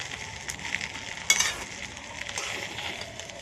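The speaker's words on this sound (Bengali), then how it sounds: "নেড়ে চেড়ে নিচ্ছি।" Chillies and rice stir-fried together in a pan for fried rice, giving a steady close sizzle with a brief louder scrape of stirring near the middle.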